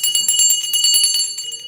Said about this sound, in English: The bell is to clear out negative thoughts,